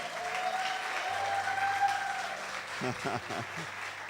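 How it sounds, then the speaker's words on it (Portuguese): A church congregation gives a round of applause, steady and moderately loud, with a few voices speaking underneath near the end. "Você pode aplaudir o Senhor?"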